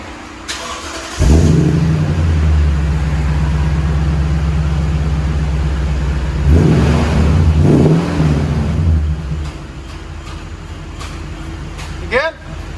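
A Toyota Tundra 5.7L V8 with an aftermarket muffler and tip fires up, settling into a loud, deep idle rumble, then revs sharply a couple of times before dropping back to idle, heard close up.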